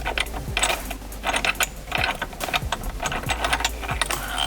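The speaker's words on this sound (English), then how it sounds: "I can wind this by hand even and take out the steering wheel puller" A steering wheel puller on a Ford Mustang SN95 is wound by hand, giving a close, steady run of metallic ratcheting clicks and thread squeaks with no talking.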